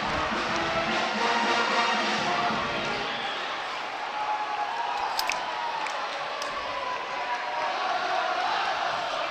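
A Viking home crowd cheers and roars steadily at a boys high school basketball game between Pleasant Grove and Westlake as the opening tip-off approaches, a dense, continuous wash of voices with occasional sharp shouts.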